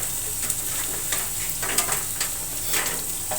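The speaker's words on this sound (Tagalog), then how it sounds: "para hindi masyado masunog yung sibuyas at bawang. Kailangan haluin." Onion and garlic sizzle in a pan while being stirred, a steady frying hiss broken by scattered clicks and scrapes from the stirring utensil, close and moderately loud.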